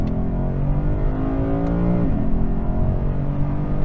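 Lexus IS 500 with its V8 engine and 8-speed automatic, a loud steady engine drone from inside the cabin with a brief rise in pitch midway, heard alone.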